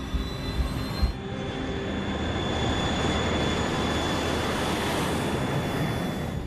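Airliner jet engines spooling up to takeoff thrust and roaring steadily as the aircraft accelerates down the runway, a loud, continuous broadband rumble that builds after a brief lull.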